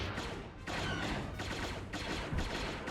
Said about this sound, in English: the turbo lasers are on